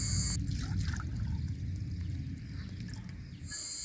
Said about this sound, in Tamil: தேவையான அளவு தண்ணி சேர்த்துக்கிறேன்